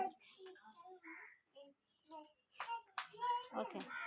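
Young anganwadi children clap their hands during a playground game, faint scattered claps mixed with soft children's voices and an adult speaking.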